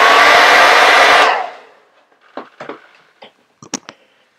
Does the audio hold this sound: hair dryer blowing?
yes